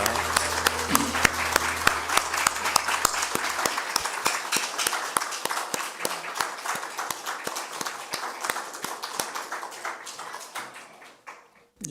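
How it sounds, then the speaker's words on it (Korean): A church congregation at a pastor's installation service breaks into applause, dense clapping over a fading low hum at first, then individual claps growing sparser and quieter until the round dies out. "영광의 박수 올리겠습니다."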